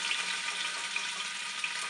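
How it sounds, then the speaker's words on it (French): A roast searing in hot oil inside a Cookeo multicooker gives off a steady, dense sizzle and crackle with faint spattering. It runs evenly throughout and stays fairly quiet, with no talking. "si l'huile est trop chaude, ça risque d'éclabousser un petit peu"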